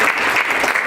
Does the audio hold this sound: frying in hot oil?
no